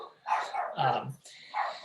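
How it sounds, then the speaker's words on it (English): Dogs in a home bark in several loud, close bursts, a few yips rising among them, spread over a couple of seconds. "Please excuse my dogs."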